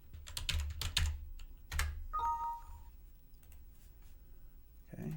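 Keys tapped on a computer keyboard while a super user password is entered, a burst of quick clicks near the start followed by a few more, with a short electronic tone in the middle and a brief voice at the end.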